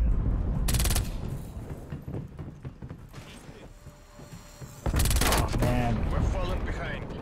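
A MAC-10 submachine gun firing in a video game: two loud, rapid bursts, one short and one longer, with quieter mechanical clatter and background game noise between them.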